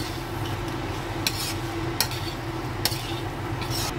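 A spoon stirs spiced potatoes seasoned with amchur powder in a cooking pan, with soft scraping and a few sharp metallic clinks against the pan at regular intervals over a steady background hum.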